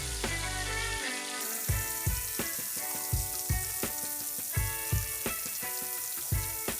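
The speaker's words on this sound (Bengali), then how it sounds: "তারপর তেলটা গরম হয়ে গেলে দিয়ে দেবো আমাদের চিংড়ি মাছ।" Prawns fry in hot oil in a wok for a prawn malai curry, making a continuous crackling sizzle punctuated by regular, sharp utensil taps, close and alone.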